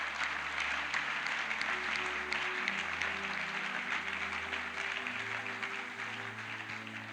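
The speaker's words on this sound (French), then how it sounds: "Est-ce que tu peux acclamer très fort pour le roi de gloire?" A church congregation claps steadily and warmly in praise to God, a dense sustained wash of applause with faint music tones underneath throughout.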